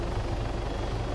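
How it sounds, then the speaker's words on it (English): An Arma 3 helicopter using the advanced flight model hovers close to the ground, giving a dense, continuous rotor and engine roar that is loud and steady throughout with no talk. "It's a flying a freaking helicopter."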